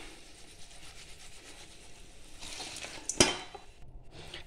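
Fried spice paste being stirred into homemade achar, with soft scraping and rubbing of a utensil through the thick mixture and one sharp clink against the bowl near the end.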